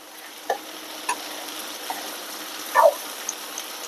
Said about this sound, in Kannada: ಬೆಲ್ಲ ಸ್ವಲ್ಪ ಸ್ವಲ್ಪ ಬೆಲ್ಲ ಹಾಕಿ ಮಿಕ್ಸ್ ಮಾಡ್ತೀವಿ